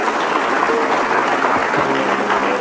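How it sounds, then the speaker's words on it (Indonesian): Studio audience applause for a guest on the Indonesian TV talk show Hitam Putih, dense and sustained from start to end, loud and close, with faint voices underneath. "kita berikan tepuk tangan dulu buat Aida Ismet Iskak"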